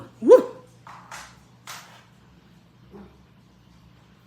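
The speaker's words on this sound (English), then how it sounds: "That was my dog." A dog gives a sharp, loud bark followed by several fainter, spaced barks and yelps over about two seconds, then a last soft woof, set against a low steady hum.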